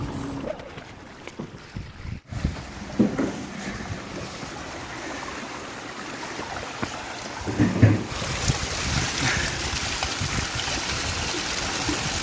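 A clear mountain spring flows in a continuous rushing wash of water, close and fairly loud, with wind buffeting the microphone and a few handling bumps.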